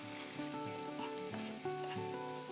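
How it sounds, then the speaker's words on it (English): Chopped onion sautéing in a pan with roasted whole spices for a spinach and mint pulao, a steady close sizzle and crackle with faint stirring throughout, no talking. "Saute the onions for a couple of minutes."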